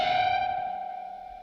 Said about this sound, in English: the regular default setting on the tape echo was like that, with 80 milliseconds of like a slap delay